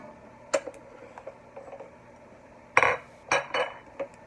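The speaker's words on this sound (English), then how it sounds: "Mixing in the onion." Spoon scraping and clinking against a pan while onion is stirred in for baked mac and cheese, with scattered sharp metallic knocks, quiet between them and bunched more tightly near the end.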